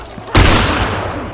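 Gunfire in The Last of Us video game, a single sharp loud blast with a brief noisy decay, close and alone.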